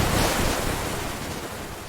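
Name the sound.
ocean waves and wind in a cartoon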